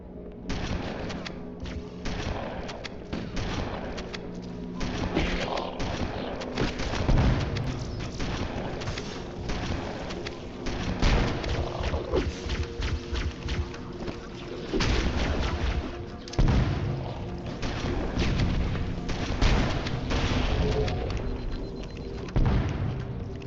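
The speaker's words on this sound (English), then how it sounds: "Okay, with all those explosions," Relentless gunfire and booming explosions fill a battle in Halo: Combat Evolved on the Library level, with rapid bursts, heavy blasts and dense overlapping shots sustained loudly throughout, barely a pause between volleys.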